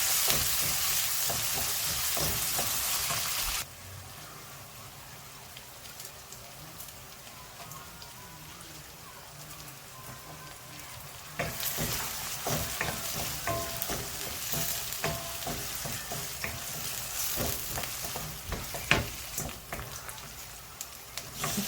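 Chopped tomatoes and onions fry in a pan for tomato rice, giving a loud continuous sizzle that drops off briefly, then returns strongly with stirring crackles and spatters.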